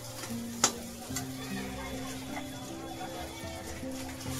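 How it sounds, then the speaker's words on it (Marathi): Vegetables sautéing with garam masala and coriander powder in a pan for a Maharashtrian veg thali, a steady soft sizzle with stirring scrapes and a brief clink, running continuously under background hum. "सगळं परतून घेणार आहे."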